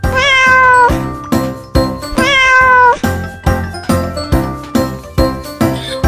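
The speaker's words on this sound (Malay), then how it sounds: "Kucing itu sangat comel." A cat meows repeatedly in long, drawn-out cries over a steady rhythmic background with light tinkling, several meows in a row, close and loud.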